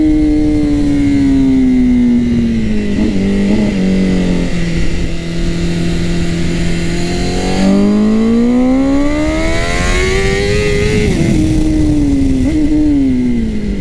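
Honda CBR 1000 RR-R SP sportbike being ridden, its engine loud and close as it revs up through the gears, falls back, then climbs again in long rising sweeps with wind rush throughout.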